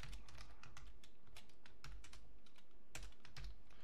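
Rapid, steady keystrokes clatter on a computer keyboard while code is typed into a text editor on an Amiga system, close and crisp with no voices.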